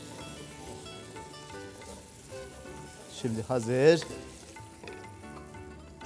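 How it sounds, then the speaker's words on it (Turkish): Rice toasting in a pot for chicken pilaf, a constant soft sizzle under a voice, with a louder burst of stirring and frying midway. "pişmeye devam ediyor. Pirincimiz kavrulsun."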